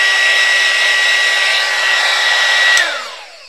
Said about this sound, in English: if you have a blow dryer that is really hot, you can probably use that as well